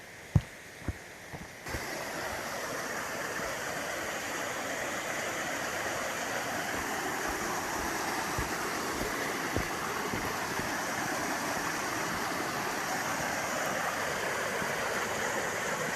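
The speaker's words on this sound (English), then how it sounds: "Looks like there's actually a little bigger waterfalls right here." A hillside stream spills over small waterfalls in a steady, close rushing flow that holds the whole time, preceded by a few brief knocks at the start.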